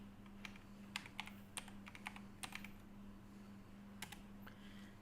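Someone types an IP address on a computer keyboard while running a network automation script: a few scattered, light key taps over a steady low electrical hum, faint and close, with no talking.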